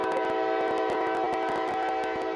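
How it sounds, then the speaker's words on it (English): A train rolls steadily past outside a house, its horn sounding with sustained tonal blasts over a continuous, loud rumble of wagons for the whole stretch, with no talking. "Somebody's got a train outside their house."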